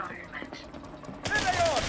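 Weapon fire in a space-combat video game erupts in a dense, loud burst partway through, following a quieter stretch with faint voice-like sound.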